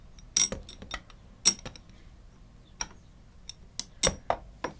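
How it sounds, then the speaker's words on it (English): A spark plug wrench loosening a dirt bike spark plug, heard as a handful of sharp, separate metallic clicks and ratchet ticks against near silence. "So this step, you want to put your wrench and loosen it."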